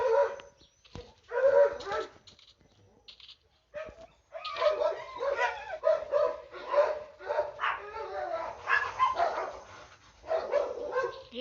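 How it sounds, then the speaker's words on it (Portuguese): Dogs fight outside with repeated barks, yips and snarls in irregular bursts, heard at a moderate distance and fairly faint. "Os cachorros se pegando ali fora"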